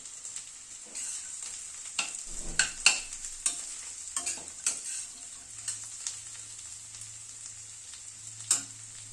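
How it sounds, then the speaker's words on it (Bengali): Carrots and beans being stir-fried in a pan for a dal with winter vegetables: a quiet, steady sizzle broken by scraping spatula strokes and knocks against the pan. "গাজরটা দিয়ে একটু নাড়াচাড়া করে নিয়ে তারপরে বিনসটা দিচ্ছি।"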